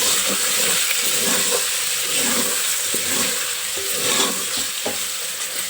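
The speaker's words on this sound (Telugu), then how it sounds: "నూనెలో మంచిగా వేగనియాలి" Steady sizzling of mutton frying in hot oil, a continuous crackling hiss with occasional soft stirring clinks, close and fairly loud.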